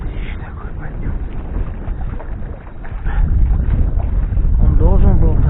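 A strong night wind at a lake during night fishing for bream buffets the microphone with continuous roaring gusts that grow louder halfway through, while someone talks over it.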